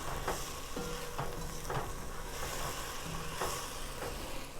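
Dry white wine, a Sauvignon Blanc, sizzles in a pan of risotto as it cooks down, a steady broadband hiss with a few soft stirring scrapes, close and moderately loud with no talking.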